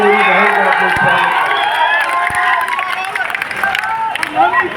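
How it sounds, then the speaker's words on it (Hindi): A large crowd at a political rally in Samastipur cheers and claps loudly, a dense continuous roar of applause and shouting that stays strong throughout. "मैं चाहता हूँ एक बार जोरदार ताली से आप लोग मेरी बहन का स्वागत।"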